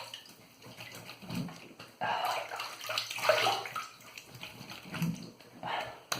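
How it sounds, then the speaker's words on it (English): Water splashes and runs during a rinse after a wet shave, with intermittent close sloshing and trickling bursts separated by brief quieter gaps. "Alright, rinsed up."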